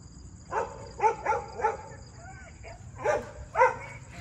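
Several small dogs yap in short bursts at mid distance in an outdoor park, with a few separate barks spread out over several seconds.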